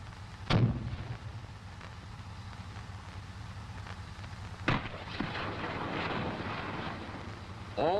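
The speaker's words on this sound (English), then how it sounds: "grenade launchers can be fired one at a time in right or left salvos of 4 or in a full salvo of 8" An M551 Sheridan armored vehicle fires a full salvo of its eight smoke grenade launchers, a sharp blast followed by another a few seconds later, over a steady engine rumble.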